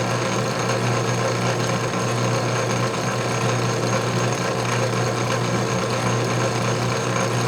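An antique model metal shaper takes a coarse roughing cut with a fairly heavy feed, giving a steady mechanical clatter and hum that runs continuously and fairly loud, with no talking.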